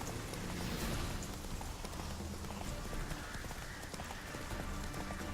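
Roach the horse galloping in The Witcher 3, a fast, continuous drumming of hoofbeats over a dense, steady wash of ambient noise, close and even in level throughout with no speech.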